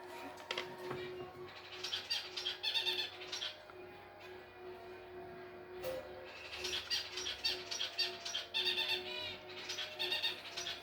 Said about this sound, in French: Il y a mes oiseaux qui deviennent fous d'un coup.